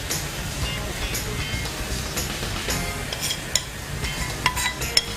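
Gram flour (besan) being stirred and roasted in a pan, with a steady soft scraping and faint sizzle and a few sharper ticks of the spoon against the pan near the end.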